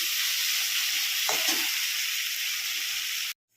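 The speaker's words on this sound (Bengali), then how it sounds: "দেখো চিংড়ি মাছ ভাজা হয়ে গেছে।" Prawns fry in a hot pan with a loud, steady sizzle and a brief stirring scrape in the middle; the hiss runs unbroken until it cuts off abruptly at the end.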